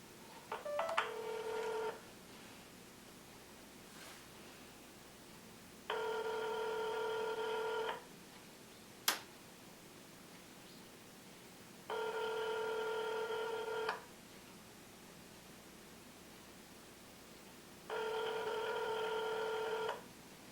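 A telephone rings back on the line in a steady cadence, with three two-second tone bursts separated by silence, heard faintly over a phone connection after a short burst of dialing tones.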